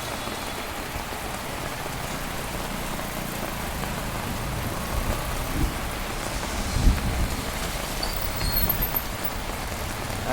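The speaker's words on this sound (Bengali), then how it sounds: "এক নাগারে বৃষ্টি পড়ে চলেছে একদম ঝমঝম ঝমঝম করে বৃষ্টি পড়ছে" Heavy rain pours down steadily, a dense continuous hiss of drops on surfaces, with a faint distant rumble.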